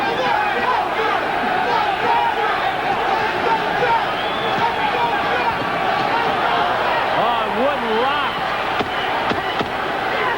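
A boxing crowd on its feet roars in a dense, sustained wall of cheering and shouting after a tenth-round knockout, loud and continuous throughout, with a commentator talking over it and a few sharp slaps near the end.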